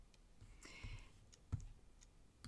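Computer mouse clicks while selecting objects in Photoshop, a few light, sharp ticks scattered irregularly and heard close against quiet room tone.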